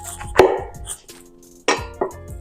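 A knife cutting a fresh head of cauliflower in half in a kitchen, heard as a few sharp close thuds and crunchy cuts separated by short pauses.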